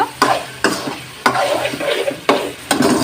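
Potatoes stirred and sautéed in a pan for a banana-flower and prawn curry, with a spatula scraping in repeated strokes about every half second over a steady oil sizzle, close and fairly loud, no talk.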